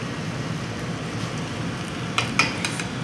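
Garam masala is stirred into karela gosht (bitter gourd with meat) frying in a pot, giving a soft sizzle under scraping strokes, with a few sharp utensil clinks near the end.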